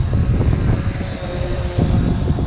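Steady droning hum of a DJI Mavic Pro quadcopter drone hovering nearby in windy conditions, its whirring motors continuous with slight wind buffeting throughout.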